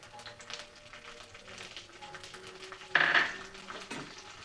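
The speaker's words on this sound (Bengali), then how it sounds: "এইবার এখানে আমি একটা বড় সাইজের পেঁয়াজ কুচি করে নিয়েছি," Chopped onion drops into hot oil in a pan with a sudden clatter and sizzle, followed by a short burst of frying and a utensil scrape; quiet kitchen sounds before it.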